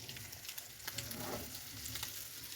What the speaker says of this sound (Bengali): একবারে মশমশা করে ভেজে নিব।